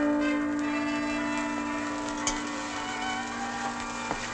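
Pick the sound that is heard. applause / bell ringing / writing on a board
bell ringing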